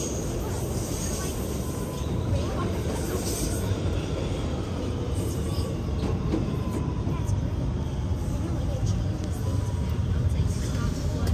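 A 168th Street bound R211T C local subway train rumbles steadily along the tracks, a loud continuous roar with faint squeals, while a voice speaks over it.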